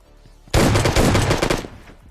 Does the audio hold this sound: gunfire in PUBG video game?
yes